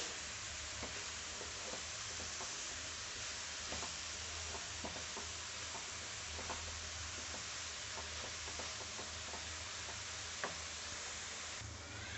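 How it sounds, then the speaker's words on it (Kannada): Ghee sizzling steadily as a pizza topping mixture fries in a pan, with faint scattered ticks of a spoon stirring through the constant hiss, no voices present. "ಇಲ್ಲಿ ಚೆನ್ನಾಗಿ ಮಿಕ್ಸ್ ಮಾಡ್ತಾ ಫ್ರೈ ಮಾಡ್ಕೋಬೇಕು"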